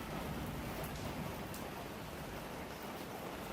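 Steady rain pours down during a flood, a dense continuous hiss of drops on surfaces holding at an even level throughout, with no voices.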